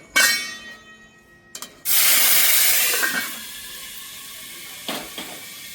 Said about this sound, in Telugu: ఇప్పుడు కట్ చేసుకున్న టమాటా వేసుకుందాం.